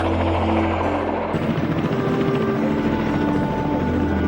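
A Kamov Ka-8 helicopter, a small early Soviet rotorcraft, flies at a 1948 Tushino air parade with a steady, loud mechanical engine drone and rotor hum. The sound stays continuous and grows coarser partway through.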